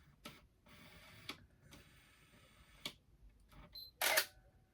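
The shutter of a Canon EOS 1 film camera fires several times, giving soft separate clicks spread apart in a quiet room, followed by one sharper, louder snap near the end.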